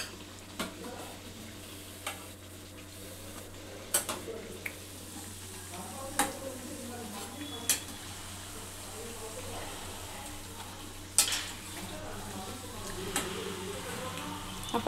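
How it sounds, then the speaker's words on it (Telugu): Vama leaf bajji fritters fry in oil with a soft, steady bubbling sizzle, broken by occasional sharp clicks and taps of a utensil against the pan, low in level and fairly close. "ఇట్లా గోల్డెన్ కలర్ వచ్చేంత వరకు వేయించుకోవాలి"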